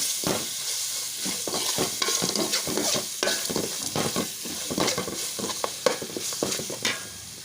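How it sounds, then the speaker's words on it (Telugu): Hot tempering oil sizzles steadily while a spoon stirs grated raw mango through it in a pan, giving repeated irregular clinks and scrapes up close. "ఈ మామిడి తురుమునైతే ఈ పోపులో యాడ్ చేసుకోవాలి ఇలా యాడ్ చేసుకొని మంచిగా అయితే కలుపుకోవాలి"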